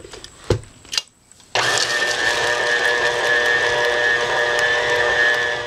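Electric mixer beating cookie dough, with a few knocks and clatters before the motor kicks in, then a loud steady whirring drone that runs on without pause.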